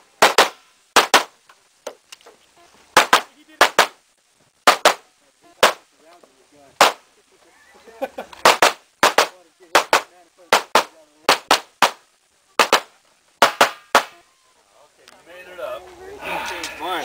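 Gunshots at an outdoor shooting range: sharp, loud cracks fired in quick pairs and short strings with brief pauses between, and faint voices in the background near the end.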